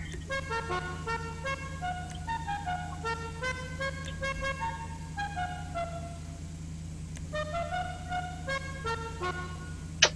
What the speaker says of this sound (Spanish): ¡Claxon!